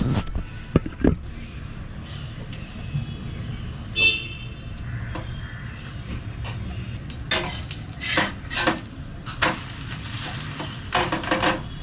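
Cabbage paratha roasts in ghee on a pan, a soft sizzle running under scraping and clinking of a spatula against the pan, with a few louder scrapes toward the end and no speech.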